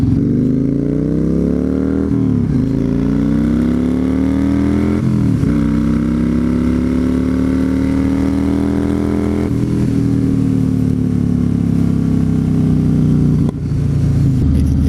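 A Yamaha Raider with a 113 cubic inch engine roars loudly and steadily while being ridden. The revs climb between gear shifts near two, five and nine seconds, and the engine note stays dominant and close throughout.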